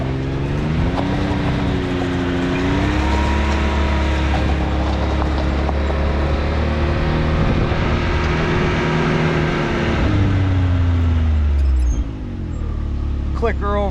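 A Can-Am X3 side-by-side towing a tool-loaded trailer drones steadily under load, its engine pitch rising and shifting as it gets going, with a brief dip near the end.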